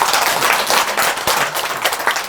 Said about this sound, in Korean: 감사드리고 박수 한번 치주세요.